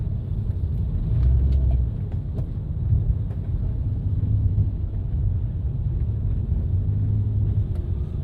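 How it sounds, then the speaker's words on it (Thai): A steady, heavy rumble of busy road traffic in Vientiane on a morning, with many cars passing nearby as one continuous loud drone and no talk. "โอ้แถวนี้รถคือหลายแฮะ"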